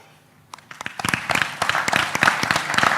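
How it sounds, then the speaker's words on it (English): Conference participants at the Bali Conference plenary burst into applause to adopt the Bali Manifesto: a quiet room, then a few isolated claps that quickly build into dense, sustained clapping from many hands. "I kindly invite participants to express their consent by applauding."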